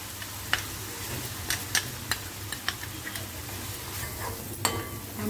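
Red masala spice paste sizzling and frying in a pan for a prawn masala, with a spoon stirring and clinking against the metal in scattered taps over a steady hiss.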